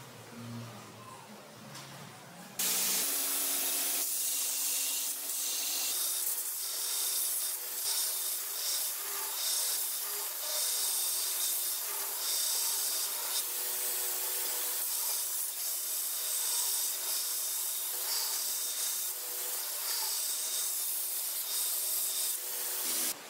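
Grinding or sanding on the corners of a steel sheet for a homemade sheet-metal bending brake, with a sustained, loud abrasive rasp that runs steadily after a brief quieter start, close up and with no talk.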